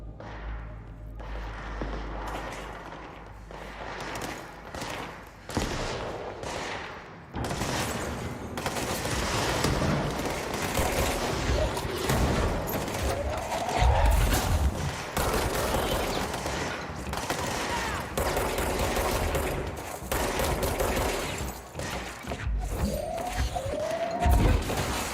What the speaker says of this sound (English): And gunshots.